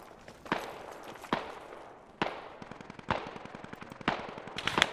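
Gunfire in the Squad video game, with repeated sharp shots and short automatic bursts at varying distances over a steady crackle of distant firing.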